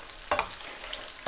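Puri frying in hot oil, lifted and drained: a constant sizzle with two sharper bursts of crackling as the bread is stirred and moved close by.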